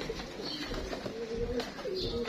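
Pigeons coo softly in repeated low, hollow calls, faint and close, over a quiet background with some murmured voices.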